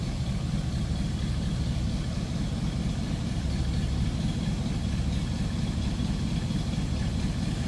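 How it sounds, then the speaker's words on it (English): A 1968 Buick Riviera engine idles steadily with a continuous low, even rumble throughout and no talking. "That's how your grandpa's Buick sounds right there."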